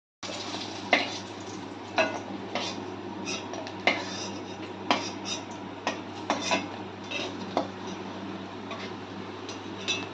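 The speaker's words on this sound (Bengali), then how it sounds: "এবার মাছগুলো আমি একটা পাত্রে তুলে নিচ্ছি" Fried katla fish pieces are lifted from the pan into a bowl, producing a string of light metallic clinks and scrapes of utensils against cookware, with a faint sizzle and steady kitchen hum underneath.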